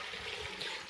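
Water poured into a wet grinder with its stone fitted for cleaning: a steady, close trickling and splashing stream that runs without break for the whole moment.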